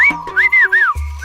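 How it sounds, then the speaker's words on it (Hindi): A person whistles a short tune of several rising and falling notes, loud and close, with a low hum underneath. "आपने सीटी क्यों बजाई?"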